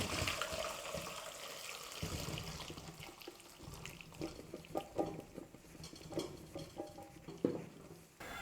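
Blanched cauliflower being drained through a strainer, hot water pouring and splashing into a sink with a steady rushing flow and occasional clatter of the strainer, close and fairly loud, with no talking.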